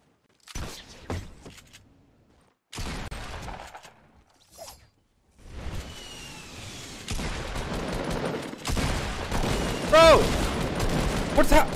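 Hunting rifle gunfire in a Fortnite match, sharp separate shots in bursts with gaps between them, growing into denser, busier firing and game noise toward the end.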